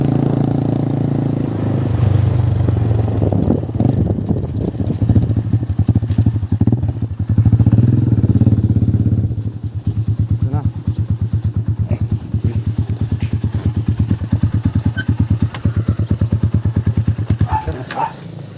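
A motorcycle engine runs close by, a low steady rumble that shifts midway into a rapid pulsing idle with clattering and scraping on top.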